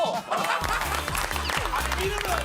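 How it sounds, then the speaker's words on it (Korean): Bursts of studio applause and crowd noise from a group of K-pop idols, thick and continuous beneath excited voices and a pulsing music bed. "박수 줘"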